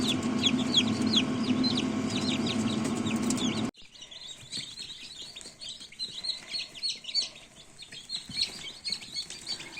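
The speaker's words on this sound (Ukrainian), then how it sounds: "Дивлюся, жваві гарні курчатка" Many newly hatched chicks chirping together in a continuous, busy chorus of high peeping calls, close by, with no talking.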